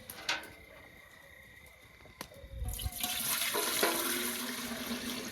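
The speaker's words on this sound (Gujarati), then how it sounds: "હવે અંદર પાણી વેળી દઈએ" Water gushes steadily into a pot for pav bhaji after a couple of clinks, a close, continuous rushing pour with no talking.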